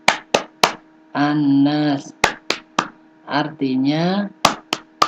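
Children chant a Qur'an memorization rhyme, Tepuk An-Nas, while clapping their hands in sharp rhythmic bursts between the sung phrases, with clear clusters of claps at the start, middle and end.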